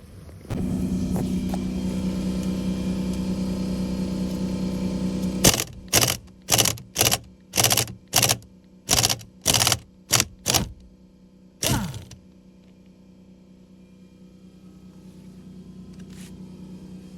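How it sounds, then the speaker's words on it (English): A pneumatic air impact wrench with a 10mm hex socket hammers out a bolt on a 2014 Mercedes C250 W204 steering column, firing in about nine sharp, loud bursts close by over a steady compressor hum. "Now I'm going to use my air impact with the 10mm Hex socket to remove this"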